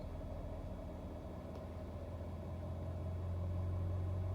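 A Ford 6.7 Powerstroke diesel pickup engine idles with a steady low rumble, then climbs into a higher, louder drone as it revs itself up near the end, heard close and alone.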